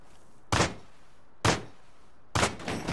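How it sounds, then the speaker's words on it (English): Gunshots in the survival video game Rust: three separate sharp, loud reports spaced about a second apart, each with a brief decaying tail, heard alone over a quiet background. "Yes, I hear gunshots"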